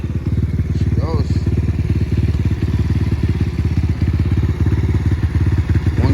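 A pit bike engine kick-starts and runs steadily at close range, its loud, rapid firing pulses continuing throughout, with a voice speaking briefly over it.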